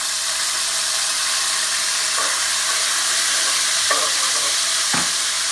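Soy sauce fish sizzles steadily in a hot pan while being stirred, a constant bright frying hiss with a few soft clinks of the utensil against the pan.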